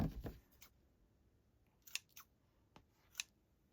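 Scissors snip through card during crafting of a handmade teenage greeting card, a few short crisp cuts spaced apart in a quiet room.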